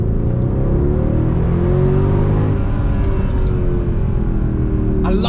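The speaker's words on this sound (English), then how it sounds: "I love the fact there's no noises of turbos, isn't it? It's just pure, unadulterated noise." A 2012 Mercedes-Benz C63 AMG W204 with its naturally aspirated engine revving hard, a loud, close, continuous roar with rising and falling pitch sweeps and no turbo whistle, heard alone.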